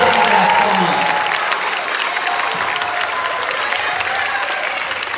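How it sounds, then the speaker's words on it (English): Audience applause at a middle school summer band camp concert after the band finishes, dense steady clapping that starts loud and holds evenly throughout, slightly easing toward the end. "one more giant round of applause for this band"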